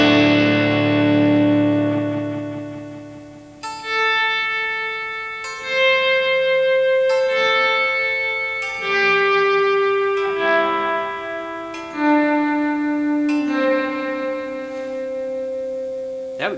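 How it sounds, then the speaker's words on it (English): Electric guitar through a Boss DD-500 on its slow gear echo preset, a sequence of notes that swell in softly with no pick attack and ring on with echoing repeats, clear and close. "Slow gear echo, slow attack."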